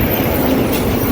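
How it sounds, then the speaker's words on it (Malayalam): A KSRTC bus pulls into a bus stand at the bottom of a steep downhill approach, its loud, steady engine rumble filling a brief moment with no pauses. "ബസ് വരുന്നുണ്ട്."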